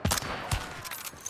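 Gunshots from a first-person shooter video game, three or four sharp close reports in quick succession, fairly quiet overall.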